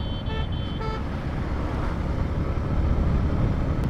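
Steady, close road traffic on an Indian road as vehicles overtake, a dense rumble of engines with a couple of short horn toots near the start.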